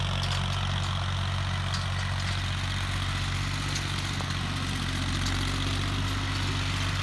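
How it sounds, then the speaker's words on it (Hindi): A 1988 Massey Ferguson 35 tractor with a diaphragm pump runs steadily, giving a continuous low, rumbling drone with no breaks and no voices. "और ये 1988 मॉडल ट्रैक्टर है भाई, मैसी 35 फर्ग्यूसन डायफ्राम पंप वाला।"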